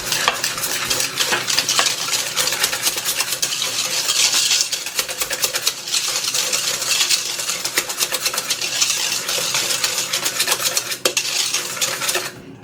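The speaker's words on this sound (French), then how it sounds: "Je mélange les œufs et le sucre en poudre." Eggs and fine caster sugar are whisked together in a bowl, giving a steady, busy clatter and scrape of utensil against the bowl that runs nonstop and close up, with no voices.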